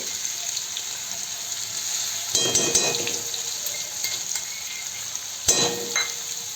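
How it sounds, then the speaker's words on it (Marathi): Mustard seeds and cumin crackle in hot oil while a Mumbai-style vada pav recipe is being cooked: a constant sizzling hiss, broken by two louder bursts of popping and spattering. "त्याची मोहरी आणि जिरे कसे तडतड करतायत"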